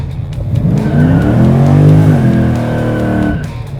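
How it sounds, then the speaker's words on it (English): A Chevrolet Monte Carlo Aerocoupe launches hard, its loud engine drone rising as the rear tires squeal in a sustained, bending screech that fades near the end. "See if it launches."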